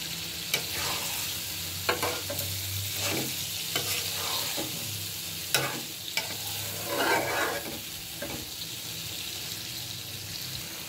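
Chopped tomatoes and bean seeds sauté in a pan, giving a steady low sizzle broken by repeated scraping strokes of a spatula at an uneven pace; fairly quiet, with no speech.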